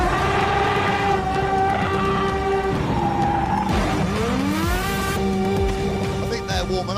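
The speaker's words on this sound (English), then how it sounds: "Probably ought to warm the tyres up." An Aston Martin Vulcan spinning its tyres to warm them, loud engine roar with rising and falling revs and a screech of tyres on tarmac, close by and continuous, with a voice talking over it.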